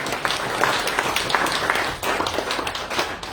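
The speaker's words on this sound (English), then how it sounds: "which definitely needs a round of applause" A short round of applause from a meeting audience at an annual general meeting, brisk, uneven clapping lasting a few seconds.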